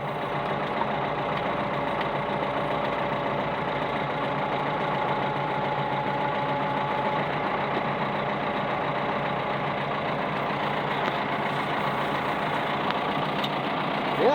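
A hydraulic machine runs steadily under load, its engine drone continuous and close as the cylinder extends to lift, with no pauses or talk.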